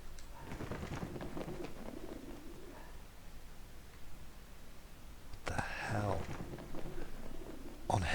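A pigeon coos softly in the video game Let's Prey, with low murmuring calls early on and louder cooing bursts near the end, all close and fairly faint.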